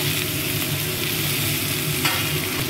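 Cumin, tomato and bay leaf sizzle in hot oil for an egg and lentil dish, a loud, unbroken frying hiss with a low hum beneath and a brief sharper burst near the end.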